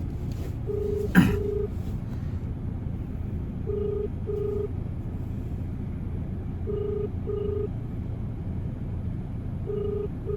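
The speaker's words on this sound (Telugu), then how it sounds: "రింగ్ అవుతుంది" A phone ringback tone sounds on speakerphone in repeated double pulses against a steady rumbling background inside a taxi, with a brief sharp noise near the start.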